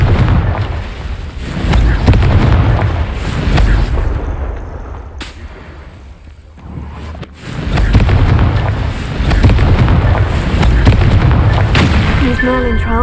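The Confringo explosion spell from the video game Hogwarts Legacy goes off as loud, dense blasts and rumbling booms, easing in the middle and then surging again, with fizzing effects near the end.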